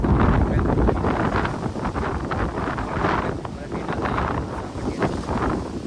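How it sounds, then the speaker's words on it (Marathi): Strong wind on the Gorkhagad mountain fort trek roars and buffets the microphone in a continuous loud, gusty rush with no pauses. "वारा खूप सुटलेला"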